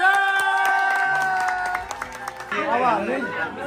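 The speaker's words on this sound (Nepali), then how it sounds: "ताली ताली खोइ" Guests at a birthday party in an Asian restaurant in Bucharest clap along as singing fades, and a burst of hand claps rises into cheerful crowd chatter and babble.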